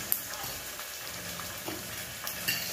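Cooking oil sizzles and crackles steadily as food fries, a constant hiss throughout with small pops and a few louder spatters near the start and end.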